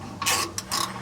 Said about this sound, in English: Now we just need to tighten this front flange here.